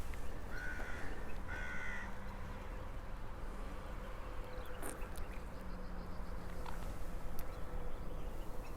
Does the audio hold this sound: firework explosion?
no